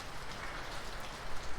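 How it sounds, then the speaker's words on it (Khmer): Heavy, gusty rain pours down hard during a first storm in Northern California, a dense, continuous roar of drops with no voices. "It's raining very hard it's pouring"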